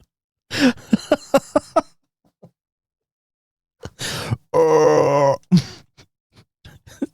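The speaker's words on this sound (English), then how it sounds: "Dude, a monster answered the phone." A monster's groaning voice heard over a phone line in the horror video game Silent Hill 4: The Room: a loud burst of grunting moans, then a pause and a longer, sustained drawn-out groan, with no talk over it.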